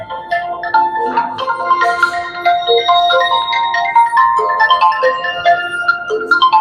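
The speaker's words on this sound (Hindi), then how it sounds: "मेरा फोन बज गया" A mobile phone ringtone plays loud and close, a bright repeating melodic tune that carries steadily throughout with no talking over it.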